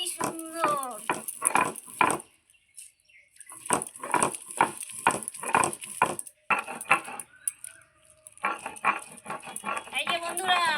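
Garlic is ground into a paste by hand, heard as a steady run of rough, rhythmic scraping strokes, close and fairly loud, with short pauses between bursts and a voice briefly at the start and end.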